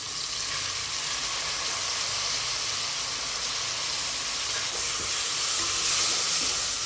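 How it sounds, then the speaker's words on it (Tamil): Mint leaves and ground spice powder sautéing in a pan for mutton biryani, a continuous close sizzle and hiss that swells slightly louder toward the end. "நல்லா வதக்கிக்கலாம்."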